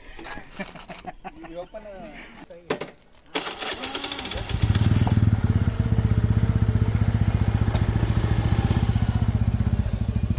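A Royal Enfield Bullet motorcycle engine starts up and settles into a loud, steady thumping idle close by, after a stretch of people talking and outdoor noise.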